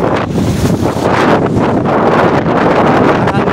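Strong wind roars and buffets against the microphone continuously in snow, a loud broadband rush with gusty fluctuations throughout.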